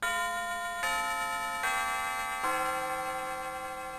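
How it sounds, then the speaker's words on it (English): A school bell chime from the video game Mega Man Battle Network 6, a sustained electronic ringing tone stepping through several pitches, steady and clear with no talk. "Ah, the bell."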